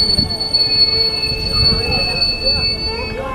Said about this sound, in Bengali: হঠাৎ করে ট্রেনটা আবারও ঝাঁকুনি খেয়ে থেমে যায়